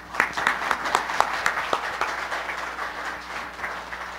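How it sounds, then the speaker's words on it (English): Audience applause at a housing policy conference, a steady spread of hand clapping through the room with a few sharper claps near the start, continuing evenly and easing slightly toward the end. "I think we should all give Joe a big round of applause."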